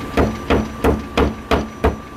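A claw hammer strikes the handle of a screwdriver held against a dent in a car's body, six sharp evenly spaced metallic taps ringing close and loud with no talking.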